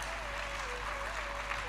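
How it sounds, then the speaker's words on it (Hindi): Steady applause from the audience at a Hindu Bhagwat Katha religious discourse, continuous and even, with a faint tonal hum beneath. "ताली बजाने का मन करे जोर से बजाओ,"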